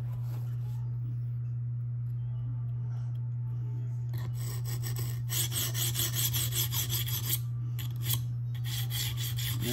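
A Spyderco Police 4 knife with a K390 steel blade is ground against an abrasive while being reprofiled. Quiet rubbing strokes build into louder, rhythmic rasping passes over a low steady hum.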